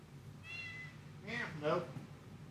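Doodle the cat gives a brief, soft meow followed by two closer, louder ones near a small tent, in a quiet room.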